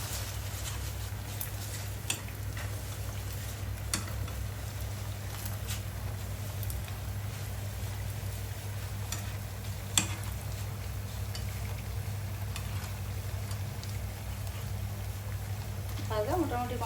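Coconut puli pitha frying in hot oil gives a steady, continuous sizzle over a low hum, with a few faint clinks and a scraping stir near the end.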